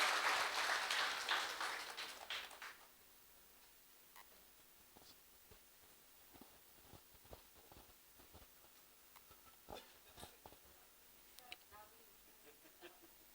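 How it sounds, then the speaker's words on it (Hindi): An audience at an All India Mushaira and Kavi Sammelan poetry gathering welcomes a poet with a short burst of clapping that fades after a few seconds, leaving faint scattered claps and quiet room noise. "जोरदार तालियों से उनका इस्तकबाल किया जाए।"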